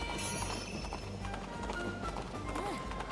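Hooves clip-clop in a fast gallop under a busy Princess Peach: Showtime! game soundtrack, with a brief whinny-like call and a voice talking over it.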